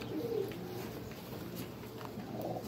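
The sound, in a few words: pigeon cooing in a loft during vaccination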